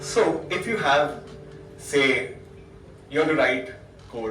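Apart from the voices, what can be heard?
None of the usual background noises is heard.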